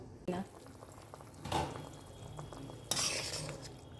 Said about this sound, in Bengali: আলুটাকে সিদ্ধ করতে দেবো আমরা সেজন্য একটা ঢাকা দিয়ে দিতে হবে